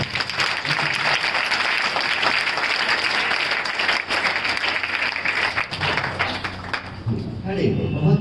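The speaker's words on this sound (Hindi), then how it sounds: "जोरदार तालियों के साथ।" Loud, sustained applause from a school audience, clapping for a sixth-grade girl's answer at a student gathering; the dense clapping runs steadily throughout and thins slightly near the end.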